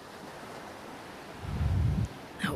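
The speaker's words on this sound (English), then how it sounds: "Listen to the ocean." Ocean surf rolls in as a soft, steady wash of water noise, swelling into a louder low rumble near the end before a brief splash; no voices are present.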